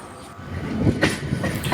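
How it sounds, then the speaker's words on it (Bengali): A train rumbles steadily along the rails near Mathura, a continuous close roar with faint rhythmic clatter from the wheels. "আমরা এই যে ট্রেন জার্নি করে ফিরে চলেছি"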